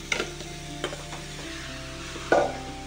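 Spoon working mashed potato stuffing around a pan, a few scraping and knocking strokes over a steady sizzle and background hum, one louder scrape near the end.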